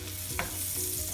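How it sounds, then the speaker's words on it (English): Onion and garlic sauté together in a frying pan, a steady low sizzle with a brief scrape of stirring near the middle, close and fairly quiet, with no talk. "We're sauteing the onion"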